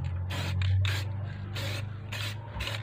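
Bosny spray paint hissing from an aerosol can onto car mag wheels of a Tamaraw FX, in several short close bursts of about half a second each, with steady pauses between them.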